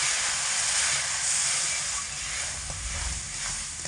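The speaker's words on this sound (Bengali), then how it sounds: "আমি অল্প অল্প করে জল দিয়ে নেড়ে ফেলে" Steady loud hiss of water poured bit by bit into semolina frying in a pan on low heat, a broad sizzling wash with faint clinks and stirring knocks underneath, no voices.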